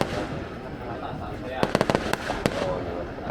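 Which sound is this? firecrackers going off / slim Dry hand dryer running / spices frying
firecrackers going off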